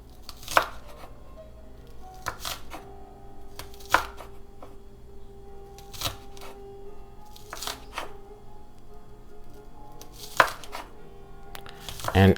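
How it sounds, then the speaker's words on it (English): A knife chopping salad vegetables on a board in slow, uneven strokes, each cut a sharp close thunk spaced about a second or two apart, with quiet handling sounds in between. "and I'm going to cut it this way, so that way I can cut it all together."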